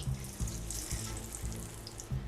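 Beef boti kebabs frying in a little oil, a continuous bright hiss of sizzling over a series of low, rhythmic thumps, close by and without talk.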